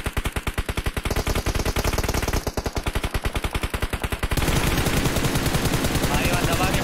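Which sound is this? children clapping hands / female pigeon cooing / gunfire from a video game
gunfire from a video game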